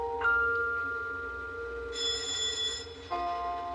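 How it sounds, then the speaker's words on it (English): A bright two-tone electronic chime rings out, holding a steady note, jumping higher, then dropping back; a clear indoor doorbell with no talking. "That's the back doorbell."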